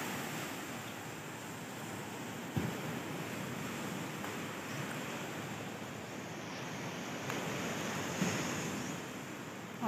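Waves wash onto the seashore in Bohol after Typhoon Odette, a steady, fairly faint roar of surf with a brief thump partway through, no talk.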